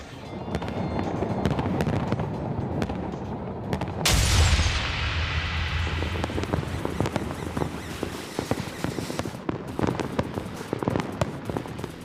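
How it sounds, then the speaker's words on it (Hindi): New Year fireworks over Dubai burst and crackle across a loud outdoor scene, a big boom at about four seconds followed by dense, continuous popping and sizzling. "दुबई के पूरे आसमान पर सिर्फ रंग बिरंगी आतिशबाजी ही नजर आ रही है"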